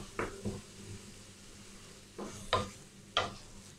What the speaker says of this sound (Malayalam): ഇതും കൂടെ ചേർത്തിട്ട് നമുക്ക് നന്നായിട്ട് അങ്ങ് മിക്സ് ചെയ്ത് ഒന്ന് വഴറ്റിയെടുക്കാം.